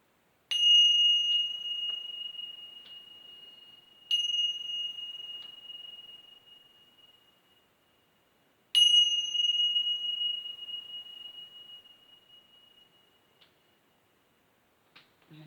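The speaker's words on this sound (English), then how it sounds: "So you will hear 3 loud pings from the bells." Three clear metallic pings from tincture bells ring out a few seconds apart, each bright tone sustaining and slowly fading into silence.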